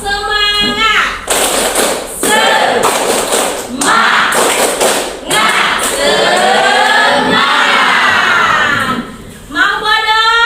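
Schoolchildren in a classroom do a rhythmic spirit clap and cheer, with bursts of sharp clapping alternating with loud group chanting and an adult voice leading at the start and end.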